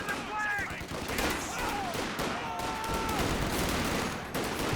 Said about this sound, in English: 50 cal out here. Now it's starting to get barraged as well.